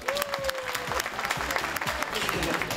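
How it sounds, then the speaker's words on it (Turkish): Studio audience applause on a Turkish television variety show, steady dense clapping throughout with a host's voice speaking over it. "Yaş ortalaması arttıkça alkışta dalgalanmalar oluyor haliyle."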